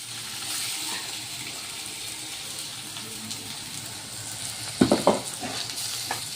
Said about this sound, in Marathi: आता हे मी लसूण अद्रक मिरच्या सांबार जे बारीक केलेला आहे ते यामध्ये टाकून द्यायचं आहे